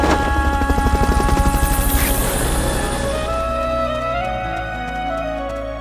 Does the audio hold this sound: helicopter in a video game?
yes